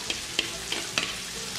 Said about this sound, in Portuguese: Com a panela desligada, você vai jogar a cebola de cabeça.